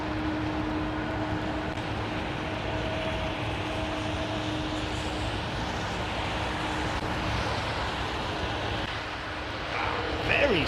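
A KLM airliner lands on a wet runway: a broad, steady engine roar with a spray-like hiss, heard from some distance, swells slightly near the end.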